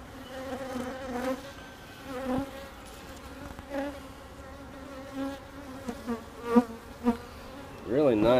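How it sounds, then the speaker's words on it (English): A swarm of Italian honey bees buzzes close by, a steady droning hum with individual bees swelling louder as they pass near, outdoors. "See, they're beautiful bees."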